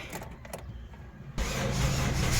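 A car engine starts after a steering rack overhaul: faint clicks and rattles, then the engine catches at about the midpoint and settles into a steady idle close by.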